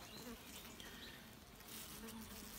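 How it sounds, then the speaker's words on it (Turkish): Honey bees of a native strain hum around their hive as pollen and some honey come in, a soft, even buzz that stays constant from start to finish without speech. "Burada da arılar çalışıyor zaten."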